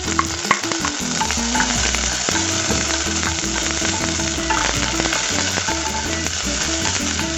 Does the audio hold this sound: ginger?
yes